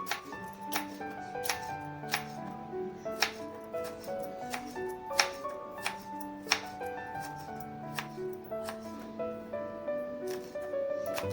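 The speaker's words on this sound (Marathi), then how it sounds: "तर त्याला आपण पातळ चिरून घेऊया एकदम, म्हणजे व्यवस्थित शिजतील ती. एकदम पातळ चिरायची." Knife steadily and thinly slicing snake gourd on a board in a home kitchen, the dish to be cooked with field bean dal; crisp, evenly spaced chopping taps repeat close up throughout with no talk.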